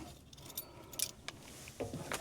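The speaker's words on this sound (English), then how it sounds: "I found my keys here." Keys jangle in bright, metallic bursts inside a Ford F250 work truck, with several separate shakes close to the mic and quiet gaps between them.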